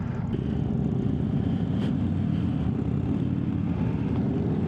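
A 2025 Indian Sport Scout motorcycle on the move, its engine a steady low rumble with wind rush, the drone constant and close throughout with no speech.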